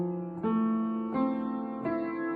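Sustained piano notes held with the sustain pedal, three successive key presses about a second apart, each ringing smoothly into the next at moderate volume with no talking.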